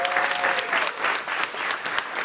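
Steady audience applause at a music conference, dense and continuous clapping from a crowd with no pauses, fairly loud throughout.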